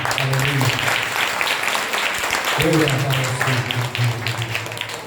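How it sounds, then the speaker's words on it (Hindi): A church congregation at a Sunday service claps loudly and continuously, with a sustained hum or music underneath and a voice briefly breaking in partway through. "उस प्रभु को महिमा दे, उसकी महिमा के लिए भी जोरदार ताली बजाएं"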